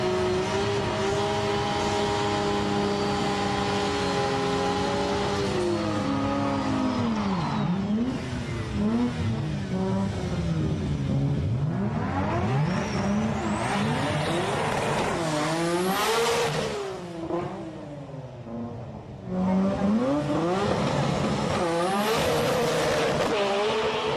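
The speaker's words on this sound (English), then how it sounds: "Here's that tough Mori R32 with the HKS 3240 turbos." Mori R32 GT-R fitted with HKS 3240 turbos at a drag race, its engine screaming and revving hard through rising gear pulls, with a brief dip and then a fresh loud climb, close and continuous.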